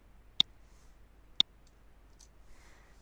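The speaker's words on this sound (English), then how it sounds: "so I'm going to click and then shift click all the areas" A mouse clicks twice in drawing software, crisp and close, about a second apart, with a fainter softer tick afterward against near silence and no talking.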